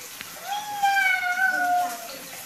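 A person, likely a young child, imitates a cat's meow with a drawn-out, wavering mewing call, close and moderately loud, preceded by a brief adult question.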